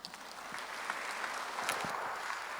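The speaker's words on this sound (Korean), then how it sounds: "하나님께 우리 박수합시다." A church congregation claps in welcome as the pastor comes forward at a worship service, a steady dense patter of many hands held at an even level throughout, with no voices over it.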